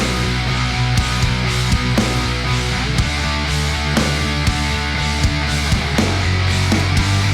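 A full song mix of chords, steady drums and MIDI Gene bass playing together at a loud, even level, with regular beat accents and sustained harmony throughout.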